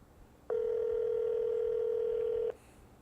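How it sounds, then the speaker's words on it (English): A telephone tone sounds as a call is placed, one steady loud beep held for about two seconds alone, with quiet room noise before and after and no ringing pattern heard. "Jake decides to call Brad over the phone"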